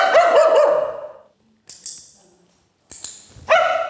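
A dog barking close by in a home during a training session, a run of loud, sharp barks, then a pause with faint sounds before another bark, with no talk over them.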